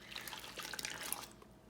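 Water pours briefly into a bowl of sourdough starter and dough, a soft, close trickling splash lasting under two seconds.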